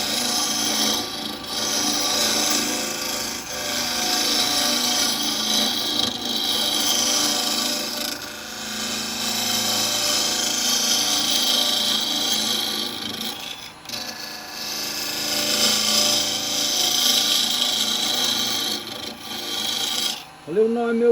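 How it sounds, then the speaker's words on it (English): A 9mm box hollower cuts into a very hard walnut burr bowl spinning on a woodturning lathe, a continuous scraping rasp with the motor hum beneath, swelling and easing over about twenty seconds. "9mm box hollower. That'll cope with it."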